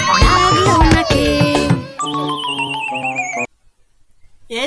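A horse neighs loudly in a children's alphabet song, a high whinny over bright music, followed by a sustained sung or synthesized tone and a brief silence.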